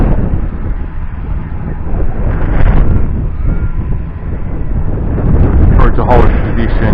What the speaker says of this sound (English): the wind is just a bit too strong